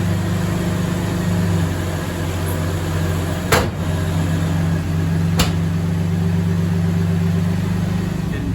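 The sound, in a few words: Camaro engine running after years in storage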